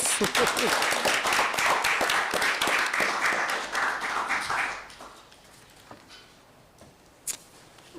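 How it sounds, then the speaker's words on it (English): An audience at a school district board meeting gives a round of applause, steady, fairly loud clapping for about five seconds that then dies away into a quiet room with a few stray sounds. "Let's give them another round of applause."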